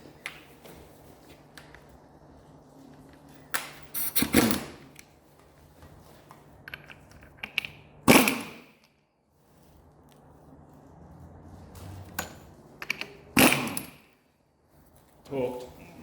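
A torque gun tightens a bolt on the clutch of a Honda CRF300L during a CBR300 clutch conversion, giving three sharp, short bursts spaced several seconds apart over quiet workshop background.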